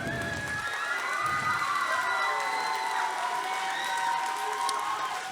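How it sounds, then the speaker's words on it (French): A crowd at a cosplay contest at Chibi Rouen 2022 cheers and applauds loudly and steadily, with shouts and whistles over a dense wash of clapping that continues throughout. "Un tonnerre d'applaudissements, s'il vous plaît."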